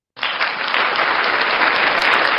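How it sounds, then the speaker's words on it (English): Audience applause at a live show in North Dakota bursts in suddenly from silence and stays loud and steady, a thick wall of clapping that keeps going. "give everybody a big round of applause"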